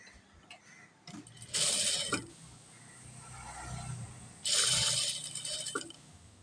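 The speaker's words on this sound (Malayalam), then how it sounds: "എന്നിട്ട് അതിൻ്റെ സൈഡിലൂടെ സ്റ്റിച്ച് ചെയ്യണം." A sewing machine stitches a churidar neck, running in two loud bursts of fast mechanical whirring with quieter handling sounds between them and no voices.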